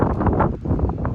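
Wind on a hiking trail along the GR340 on Belle-Île-en-Mer, a loud close buffeting rumble against the microphone, gusting unevenly throughout with no talk.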